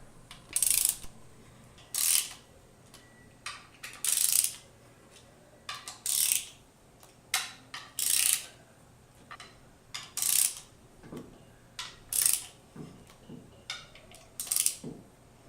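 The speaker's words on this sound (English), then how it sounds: "Use a ratchet and remove the jacking bolts." A hand ratchet works the jacking bolts on an MWS pump gearbox, sounding as short, sharp bursts of rapid metallic clicking that repeat at irregular intervals close to the listener, with quiet pauses between strokes.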